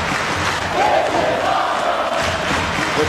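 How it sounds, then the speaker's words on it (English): A packed arena crowd at a cruiserweight wrestling main event roars and chants continuously, a loud, dense wall of cheering with no break. "The crowd absolutely loving this main event"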